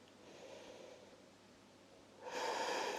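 A breath pushed out during a hip-opening stretching exercise for the front splits, a soft airy exhale that swells loudly near the end after quiet breathing.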